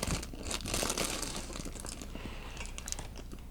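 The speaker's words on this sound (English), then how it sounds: "This is a dry paper towel. I'm sticking it in here," A dry paper towel crinkles and rustles as it is pushed into a damp RV cabinet. The crumpling is close and continuous for several seconds, with no talking.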